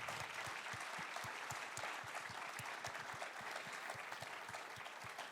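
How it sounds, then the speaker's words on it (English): Audience applause at a church talk: a steady, even patter of many hands clapping, heard from a distance at fairly low level, continuing for several seconds without a break. "Can we give our round of applause?"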